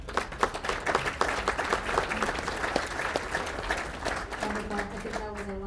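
An audience applauds at a city's State of the City address, a steady crowd of clapping hands lasting several seconds before a voice begins speaking over the fading claps.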